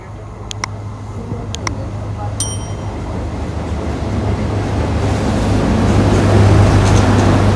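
A train on the Kilinochchi to Colombo railway in Sri Lanka passes as a steady, swelling rumble that grows louder over several seconds, with a few sharp high squeals early on and wind-like noise throughout.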